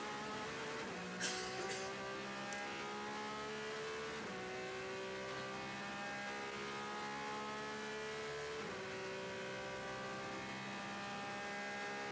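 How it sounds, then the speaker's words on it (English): A Porsche 911 GT race car at Le Mans qualifying wails around the track, its engine rising and falling through repeated gear changes at steady, moderate loudness with no talk. "This is the Porsche 911. This will sing and wail nicely."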